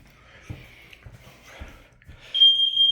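A smoke alarm or carbon monoxide detector being tested: a few faint knocks and shuffles, then a loud, piercing continuous beep starts near the end and holds.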